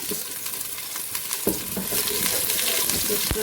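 Chopped garlic sizzles in a hot pan while being stirred, with a steady frying hiss broken by the scrape and clink of a spoon against the pan.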